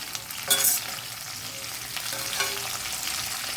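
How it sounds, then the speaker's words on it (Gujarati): Okra sizzles hard in a pan over a high flame, salted and dusted with turmeric for an okra-potato shaak, a steady close crackle broken by a few sharp scraping stirs. "આપણે હાઈ ફ્લેમ ઉપર ભીંડાને ફ્રાય કરી લઈશું"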